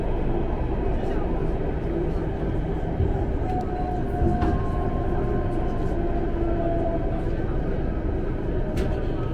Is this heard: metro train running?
yes